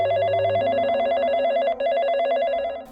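A telephone ringtone plays in a repeating warbling electronic pattern, loud and close, with no voices over it.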